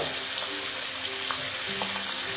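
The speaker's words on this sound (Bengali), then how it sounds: "আমি মাছটা ভেজে নেব।" Pabda fish sizzles steadily while frying in oil in a large wok, a close, continuous crackling hiss with faint pops and no voices.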